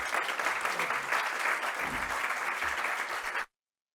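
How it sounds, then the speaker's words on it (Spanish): Sustained applause from a crowd, steady and full for about three and a half seconds, then cutting off abruptly into silence. "un fuerte aplauso para don Antonio"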